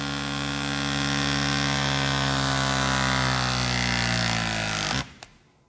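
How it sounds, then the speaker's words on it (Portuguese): A Greenlee crimping tool crimps a terminal, giving a loud, steady motorized drone that runs for about five seconds and then stops abruptly, followed by a faint click. "Vamos centralizar ele e vamos realizar a crimpagem."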